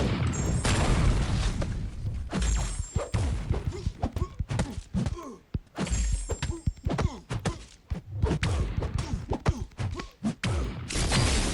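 Rapid bursts of video game gunfire crack out in dense clusters while the shooter moves, with heavy thuds and booms mixed in, loud and close throughout.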